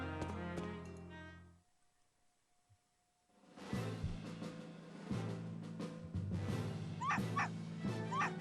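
A dog barks aggressively in the Professor Layton vs Phoenix Wright video game, its game-style yips and bow-wows arriving in short bursts over a bed of game music, with a silent gap before the sounds start.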